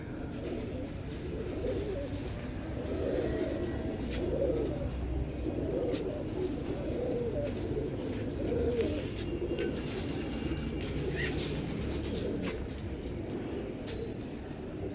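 Imam Deen pigeons coo steadily and softly in repeated low murmurs, a continuous flock sound with faint chirps over background noise.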